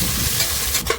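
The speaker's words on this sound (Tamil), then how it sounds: "இப்போ எண்ணெய் சூடாகிடுச்சு. இப்போ வெங்காயம் போட்டுக்கிறோம்." Three medium onions dropped into about 50 ml of hot oil for masala dal khichdi in a pressure cooker, giving a loud, steady sizzle and hiss with a scrape of stirring near the end.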